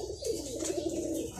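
Domestic pigeons being raised for keeping coo steadily and softly, a continuous low, throaty warble that rolls on without pause at moderate loudness.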